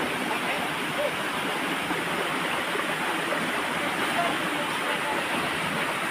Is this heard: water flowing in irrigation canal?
yes